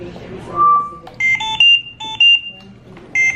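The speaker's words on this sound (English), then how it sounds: "whenever we have an alarm" Electronic alarm beeps sound in a series of loud, clipped tonal pulses, several short bursts with gaps between them after an opening tone, close and clear with no speech over them.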